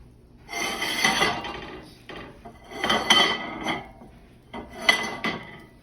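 A spatula scrapes and clatters against a pan while handling an omelet that is setting off the heat, in three loud rasping bursts with short pauses between, no speech.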